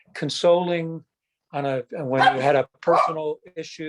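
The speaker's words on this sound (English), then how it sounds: "excuse my dogs" Dogs bark in short bursts in the background while a person keeps talking over them indoors.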